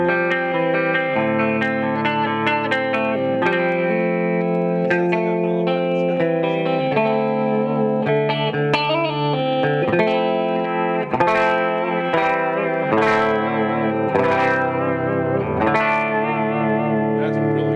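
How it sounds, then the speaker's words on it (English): An electric guitar played on a bright neck pickup through effects, with reverb and echo on the picked notes and chords, loud and up close and continuous. "that's a bright neck pickup."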